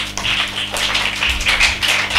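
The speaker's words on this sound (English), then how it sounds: "Can we clap for Munira?" Audience clapping for a young contestant at a lower primary school spelling bee, a dense burst of close applause from a group of children sustained for a couple of seconds.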